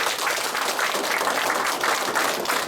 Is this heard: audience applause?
yes